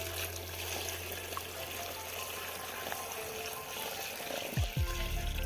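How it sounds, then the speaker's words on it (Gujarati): Water is poured into a cooking pot for a whole-brinjal curry, making a steady, close rushing pour that continues for several seconds before it ends. "હવે આ પાણી નાખી દેવું."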